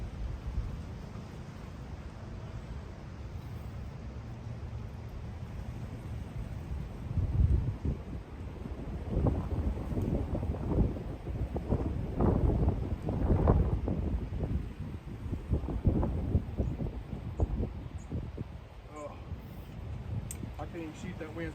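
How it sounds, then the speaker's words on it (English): Strong gusty wind buffets the microphone at an outdoor archery range as a low rumbling roar that rises and falls, with someone talking over it. "shoot, that wind's blowing me so hard."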